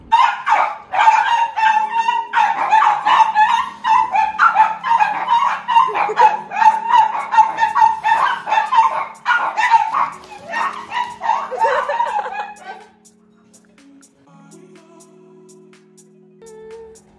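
Dogs bark and yip in quick bursts, mixed with what may be fowl or rooster calls, loud and near over steady voices for about twelve seconds before fading to quiet on an outdoor walk.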